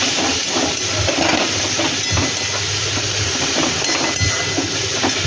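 Water splashed into hot oil and spices in a pan for a Bengali fish curry, bursting into a loud, steady steam hiss with scattered crackles and clinks close by.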